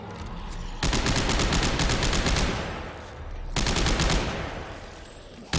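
Rapid bursts of automatic gunfire from a crafted weapon in the sci-fi horror game Dead Space 3, two long loud volleys split by a brief lull, with no voices.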